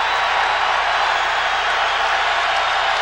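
A Missouri college basketball arena crowd roars loudly and continuously, a dense wall of cheering and applause that holds steady throughout.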